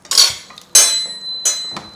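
Dishes and cutlery clink and clatter in a terrace kitchen while something goes into the oven, with three bright metallic knocks and rattles spaced about a second apart and no voices.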